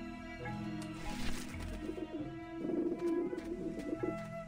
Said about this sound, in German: Verzieht euch, ihr Vögel!